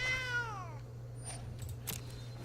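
A single cat meow from the MTG Arena card game, sounding as lifelink kitty tokens enter, falls in pitch over half a second, followed by soft game interface clicks over a low steady hum.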